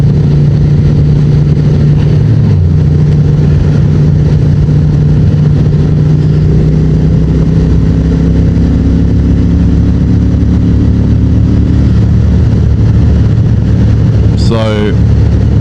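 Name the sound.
Honda Transalp 750 motorcycle engine while riding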